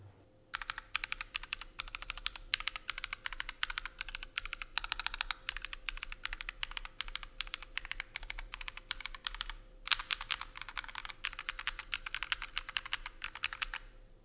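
Fast typing on a compact mechanical numpad keyboard with KTT switches, hot-swap and per-key RGB produces dense, crisp clacks, close and steady, with a short pause partway through before the rapid keystrokes resume.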